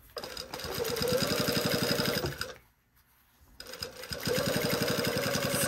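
A sewing machine quilts through thick layers of fabric, stitching in rapid even bursts, slowing and pausing briefly mid-run before stitching again, close and loud.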